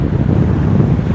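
Strong wind buffets the microphone over rolling ocean surf on a south coast beach in Java, a loud, constant low rumble with no pause and no talking.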